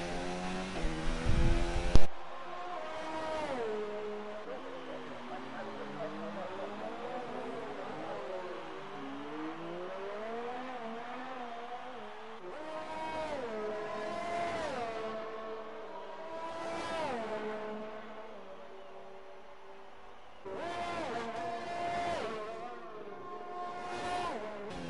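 Race car engines circle a sim racing track in a qualifying session at the Canadian circuit, several cars whining past with pitch sweeping up and down through the gears, loud continuous drone with repeated passes.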